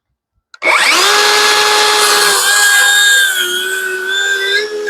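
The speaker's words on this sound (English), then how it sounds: "This saw powers through 2-inch thick white oak." A DeWalt DCS573 circular saw rips through 2-inch-thick white oak, its steady high motor whine dipping in pitch as the blade bites, loud and close throughout.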